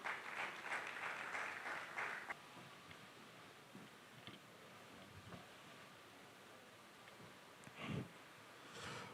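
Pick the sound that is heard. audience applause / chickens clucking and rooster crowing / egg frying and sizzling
audience applause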